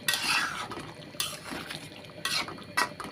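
Mutton curry with potatoes is stirred in a pot, with several distinct scraping and clattering strokes of a utensil against metal at uneven intervals over a low background bubble.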